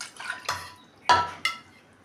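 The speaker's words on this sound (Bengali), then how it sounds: "তার প্রথমে এঁচোড় কেটে নিচ্ছি।" Young jackfruit being cut with a knife, four distinct sharp chops landing in uneven rhythm on a quiet background, close and crisp, with no talking.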